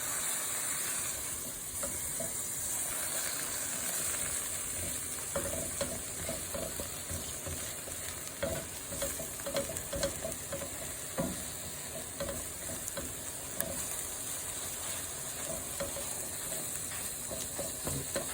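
Sweet egg and bread slices fry in butter in a pan, a steady close sizzle running the whole time with soft scrapes and small pops, no talking.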